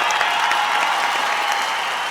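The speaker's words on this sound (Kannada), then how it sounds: "ಬರ್ಲಿ ಚಪ್ಪಾಳೆ ಬರ್ಲಿ." Studio audience applause on a Kannada TV comedy show after a skit, steady dense clapping throughout with no break.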